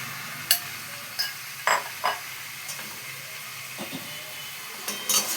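Chickpea lentils cooked with spices in a pan under a steady low sizzle, broken by several sharp scrapes and stirs of a spoon against the pan at irregular intervals.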